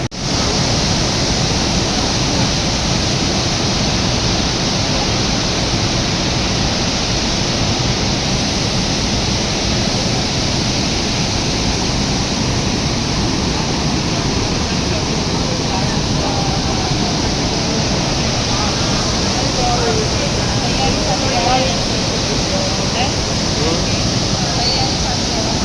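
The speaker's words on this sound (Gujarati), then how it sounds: "જો ભાઈ નીચે ધોધ પડી રહ્યો છે" Waterfall pouring beneath a bridge in Quebec City, a steady broadband roar that fills the whole stretch without letting up.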